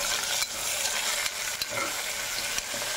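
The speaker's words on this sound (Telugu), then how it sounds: "సో ఈ టైంలో మనము టమోటా అనేది వేసుకోవాలి" Onions and tomatoes frying for mutton curry, a steady loud sizzle filling the whole stretch, broken by a few sharp clicks of stirring in the pan.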